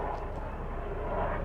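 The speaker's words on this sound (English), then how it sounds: "There's a news chopper." A news helicopter flying overhead produces a steady, muffled rotor-and-engine drone. It holds at an even, moderate level throughout without rising or fading, and no one speaks.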